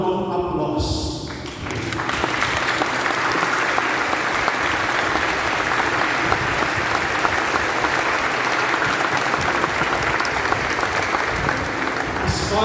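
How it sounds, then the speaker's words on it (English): A graduation audience breaks into a loud, sustained round of applause, dense clapping filling the hall evenly for over ten seconds after a brief voice at the start. "I invite my fellow graduates to stand and our gratitude with a resounding round of applause."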